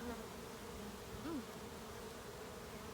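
A dense, steady buzz of many honeybees fills the scene up close, with one bee droning briefly louder as it passes by.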